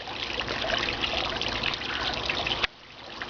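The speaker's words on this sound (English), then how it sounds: "The water flows over." Water from a backyard pond flows over rock, a steady close trickling and splashing that cuts off sharply near the end, leaving a quieter wash behind.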